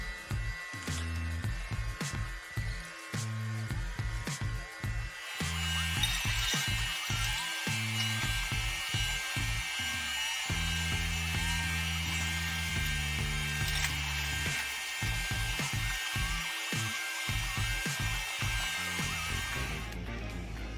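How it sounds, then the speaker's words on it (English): A giant E-Monster chainsaw with a 150 cm blade cuts through big timber. A constant high mechanical whine sits over a deep motor hum that pulses and shifts in rhythm throughout, loud and close, with no speech. "The giant E-Monster Sam chainsaw is designed for unrivaled wood chopping power, with its massive 150cm long blade."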